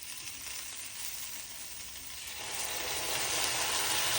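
Salt and pepper grinder twisted over frying dumplings, giving a steady ratcheting grind that grows louder toward the end, heard alone over a faint background sizzle.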